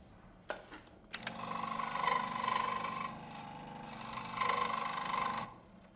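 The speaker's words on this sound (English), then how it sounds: "The Dremel." A Dremel rotary tool in the video game Tell Me Why whirs in two sustained bursts with a steady high buzz, preceded by short clicks and quiet background.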